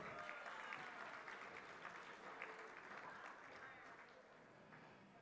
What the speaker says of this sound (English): Big round of applause for Blair Paul.